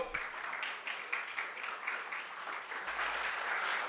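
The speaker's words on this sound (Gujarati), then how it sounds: "સો એમના માટે જોરદાર તાળીઓ" An audience at an entrepreneurship talk gives a round of applause. The clapping is fairly faint and distant, rising and falling in a loose rhythm for a few seconds.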